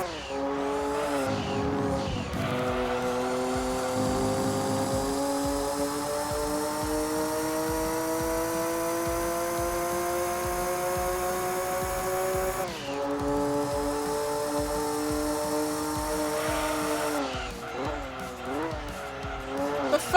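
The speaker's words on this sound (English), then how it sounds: "the engine sound that you're hearing is quite repetitive" A race car engine in Gran Turismo 2 drones steadily at high revs with smooth pitch rises and drops at gear changes, a continuous, repetitive synthetic whine with occasional tire squeal underneath.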